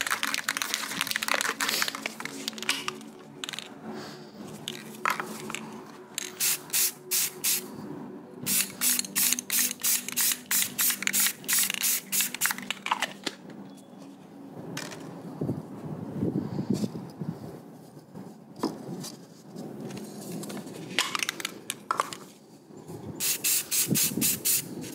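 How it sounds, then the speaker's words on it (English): A spray paint can hissing over plastic model mech kit parts, with long steady hisses and rapid stuttering bursts, fairly close and loud, and no talking. "I took everything and hit it outside with some spray paint"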